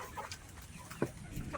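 Black Australorp chickens, about two and a half months old and raised for meat, give a few short, scattered clucks over a faint farmyard background, with one louder cluck near the middle.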